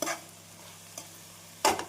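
A few short scraping clatters of a spatula stirring paneer fried rice vegetables and coriander leaves in a pan, separated by quiet gaps with a faint sizzle underneath.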